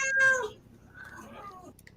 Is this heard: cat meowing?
yes